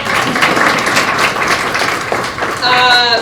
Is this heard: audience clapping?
yes